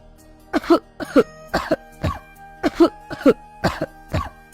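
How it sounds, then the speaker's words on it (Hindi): A sick woman coughs repeatedly in a steady rhythm, about nine harsh coughs in quick succession, close and fairly loud. "बहुत देर तक खांसती रहती है"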